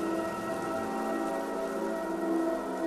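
Steady, dense rain pours down in a wide continuous hiss with no breaks, loud and even throughout, with no voices heard.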